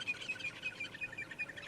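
Birds call from the bush of the Ngala game reserve, a faint, steady run of repeated high chirps at a distance, with no voices.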